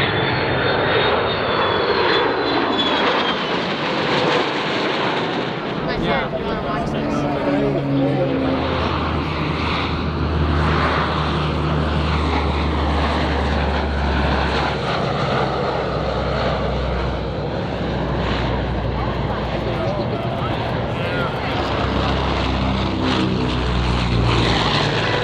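A historic C-47 in flight at the AirVenture air show in Oshkosh, its propeller engines droning loudly and steadily from close by for the whole stretch, with a deep hum swelling partway through and people talking underneath.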